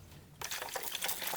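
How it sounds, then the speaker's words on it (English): After a brief quiet moment, water suddenly sprinkles and splashes onto a flat of seeds, a soft continuous pouring sound up close. "water them a little bit."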